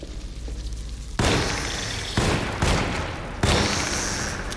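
Gunfire in the video game Alone in the Dark: several loud, sharp shots ring out in separate bursts, each with a ringing tail, over a low ambient game background.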